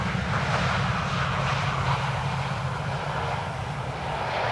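An airliner approaching to land on the Polderbaan runway at Amsterdam Schiphol Airport, its engines giving a loud, steady roar that holds throughout with no voices.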